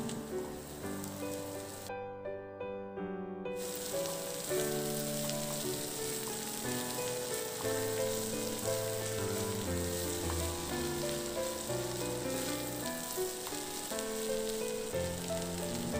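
Onions and corn sauté in a pan, a soft steady sizzle running under louder background music, with a short gap where the sound briefly drops out.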